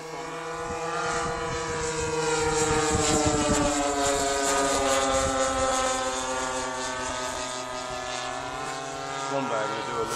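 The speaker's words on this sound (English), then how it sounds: "Sounds better, doesn't it? Nice low pass, Dave." Twin-engine RC camera plane with two 26cc CRRC petrol engines making a low pass, a loud buzzing drone with rising and falling harmonics as it nears and recedes, with people talking under it.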